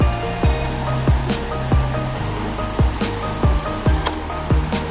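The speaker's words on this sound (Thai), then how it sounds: "เป็นน้ำไหลตลอดเวลาครับ" A stream at a campsite in a Thai national park flows steadily with a constant wash of water, close and full. Regular soft thumps and a faint tone run underneath.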